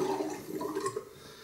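Cold mountain water runs steadily for rinsing after a shave, a continuous splashing rush with no pauses or voices.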